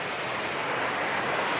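Steady broadband rush of moving water at a waterfall, a continuous even roar with no breaks, wind-like hiss across the whole span and no voices.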